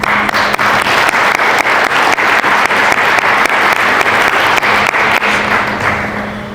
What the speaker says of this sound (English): give everybody a round of applause for coaches, peers, for the hard work and dedication they have served you all this fall.